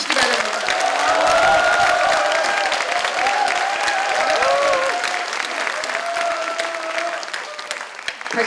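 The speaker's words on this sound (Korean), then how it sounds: "우리 자랑스러운 소상공인의 지킴이 전순옥 위원장에게 큰 박수 한번 보내주시기" Audience applause at a Democratic Party small-business members' rally, a broad sustained wash of clapping from a large crowd, with a brief spoken phrase at the start and a voice carrying over it.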